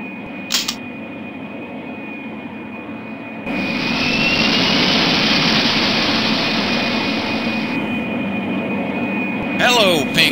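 An airplane takes off from a runway in a Pink Panther cartoon video game, with a steady engine drone that swells into a louder jet roar, then eases back, under a thin high whine.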